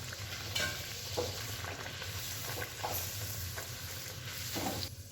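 Luchi deep-frying in hot oil, a continuous bubbling sizzle with occasional louder crackles and light stirring sounds, close and steady with no talking.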